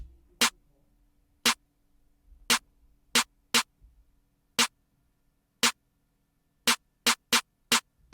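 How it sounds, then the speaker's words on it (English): A standard trap snare drum sample struck as a run of sharp, dry hits, about eleven in all, spaced unevenly and clustered toward the end, each loud and close with faint low hum between strikes. "You know, basically your just normal regular snare"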